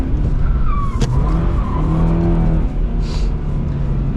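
A 2022 Subaru BRZ drifts with a handbrake entry, its engine droning loud and steady while the tires skid and squeal continuously, with brief sharp screeches near the start.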